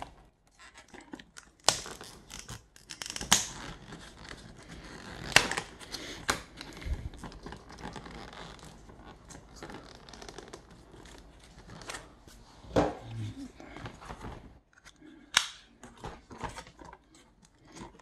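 Sabre oleoresin-capsicum pepper gel packaging being torn open by hand, with scattered crinkling, ripping and scratching bursts at close range, some sharp, separated by quieter pauses.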